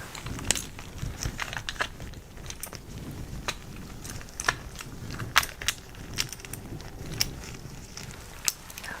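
Strawberry and blueberry candies shuffled by hand close up, a run of small crisp clicks and rattles scattered irregularly over several seconds, quiet and without talk.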